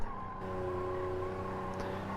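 A race car engine running hard during a time trial, a steady loud tonal drone held at high revs throughout, heard from inside or close by.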